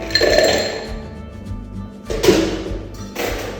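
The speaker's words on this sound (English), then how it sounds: "I will put some ice cubes." Ice cubes drop into a mixing glass for a cold coffee drink, giving a few sharp clinks and clatters in two or three bursts, close and fairly loud, with no talk.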